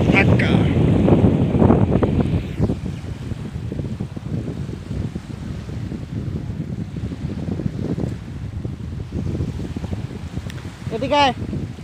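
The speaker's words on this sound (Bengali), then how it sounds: "সাগরের প্রচন্ড গর্জন শোনা যাচ্ছে" Strong wind buffets the microphone on a boat ride over rough river water, a loud, gusty rumble with splashing that eases and swells across the clip, with a voice briefly heard at the end.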